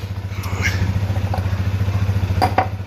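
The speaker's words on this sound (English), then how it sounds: "While that thing's warming up, let it sit and idle for a couple minutes." A Polaris Sportsman 550 ATV engine idles while warming up before an oil change, a steady low rhythmic thumping close by with faint clatter.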